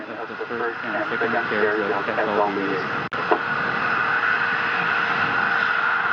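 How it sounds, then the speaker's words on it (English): First stage engines of the JAXA HTV-9 launch rocket fire about 2.5 minutes into flight, after solid booster jettison: a steady, dense broadband roar that runs throughout, with one brief dropout midway and faint tonal traces beneath early on. "First stage engines are continuing to fire, as they will until about the 5 minute 46 second mark into the flight"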